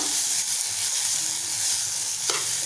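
Finely chopped tomato and coriander sizzle in a pan for a quick masoor dal amti, a loud continuous hiss with light stirring and a brief utensil scrape near the end.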